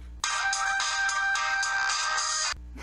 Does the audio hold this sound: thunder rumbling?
no